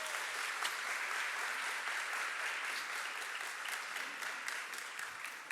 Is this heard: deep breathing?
no